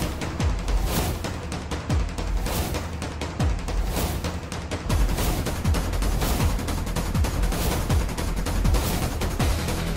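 A rapid volley of gunshots, sharp cracks and booms firing repeatedly and irregularly for several seconds, loud and close, with no talking.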